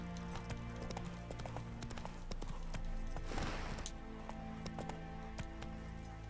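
Roach the horse's hooves clip-clop steadily at a walking pace in a video game, a soft rhythmic clatter under a low ambient hum with no talk.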